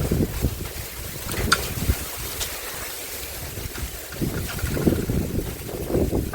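Steady wind gusts across an open outdoor spot under a cloudy sky, buffeting the microphone with low rumbling surges that swell and fade, loud and close, with no voices.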